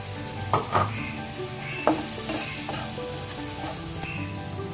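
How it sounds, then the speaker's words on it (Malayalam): Okra fries in a spiced masala pan with a steady, close sizzle, broken by a few scraping stirs of a spatula. "നമ്മൾ മാറ്റി വെച്ചിട്ടുള്ള വെണ്ടൊക്കെ ചേർത്ത് കൊടുക്കാം"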